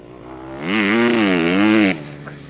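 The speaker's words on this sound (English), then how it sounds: "I'm just going to pull up here on this mud flat" A 2011 Mazda BT50 ute rolls to a stop on a mud flat, its engine note swelling then holding steady before cutting off abruptly, close and loud with no talk.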